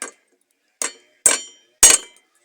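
A hammer taps a screw on the handle of a Mauser M1924 bayonet: four sharp metallic taps, growing louder, close and spaced out in near silence.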